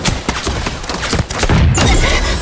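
Rapid gunshots in Super Mecha Champions, a mecha battle game, fire in a dense, continuous volley of sharp cracks and booms, loud and near, growing heavier toward the end.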